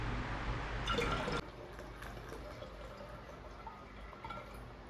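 Yeast starter is poured into Merlot grape juice in a bottle for red wine, with a brief gurgling pour near the start followed by soft liquid settling and faint drips.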